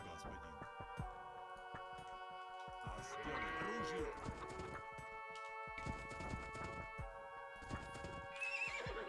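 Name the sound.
horses neighing and hooves in Age of Empires 2 video game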